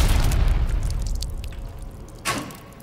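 A single sharp revolver gunshot-like boom in an online Russian roulette video game, with a long decaying rumble, followed by a smaller crack near the end, loud and close, no talking.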